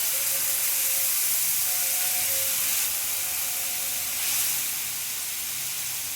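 Water poured into a hot cooking pot on a gas stove sends up a steady, loud hiss of steam that carries on for several seconds, with no voices present.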